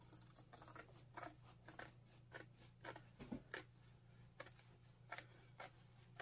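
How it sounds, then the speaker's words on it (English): Scissors snip through fabric in short, crisp cuts at an uneven pace, quiet and close, over a steady low background hum. "You can scoot your scissors right in there."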